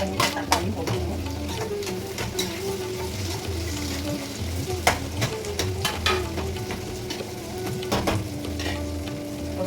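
Vada curry sizzling and frying steadily in a pan as chopped tomatoes go in, with repeated scraping stirs and clinks of a spoon against the pan over a constant hiss.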